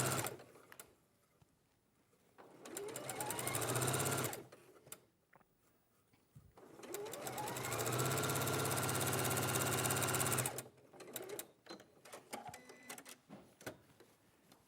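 Domestic sewing machine running a hem along the bottom edge of a garment, two long loud bursts of rapid mechanical stitching separated by a quiet pause, then short stop-start stitches.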